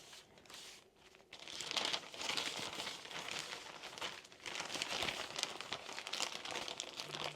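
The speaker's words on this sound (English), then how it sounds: "Now I'm going to pack up everyone orders." Packing orders for a small business in packaging left over from Christmas gives steady crinkling and crumpling of wrap and paper, fairly close and continuous, with a brief quieter pause near the start.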